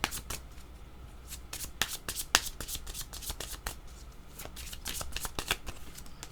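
Oracle cards being shuffled and drawn by hand during a reading, a steady run of close, crisp riffling and flicking card sounds with soft taps and no talking over them.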